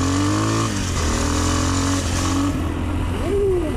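An Exdrive Tekken 250cc motorcycle engine roars close by, its pitch rising and falling as the rider revs and shifts, loud and continuous throughout.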